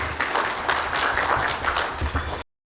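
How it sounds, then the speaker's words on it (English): A live audience breaks into sustained applause at a business event in the leather sector, dense clapping from many hands filling the room steadily before cutting off abruptly. "Big round of applause to him again."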